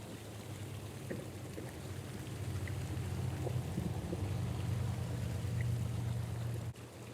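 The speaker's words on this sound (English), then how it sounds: "Now for the System Flush, we're going to apply the entire bottle to the water and let it circulate." Hot tub water circulating after a system flush cleaner is added, a soft, continuous watery rush over a low pump hum, faint and steady throughout, with a few small splashes and no talking.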